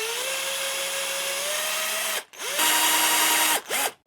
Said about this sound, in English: Now I'm ready to go ahead and drill these eye sockets.